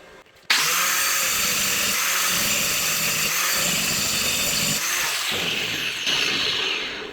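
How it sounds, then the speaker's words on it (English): An angle grinder cutting into metal on a blacksmith's nail-bending jig starts abruptly and whines loudly and steadily for several seconds, pitch shifting slightly as pressure changes, with brief dips near the end. "just from grinding that little bit away"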